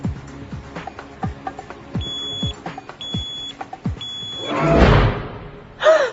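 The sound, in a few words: alarm clock ringing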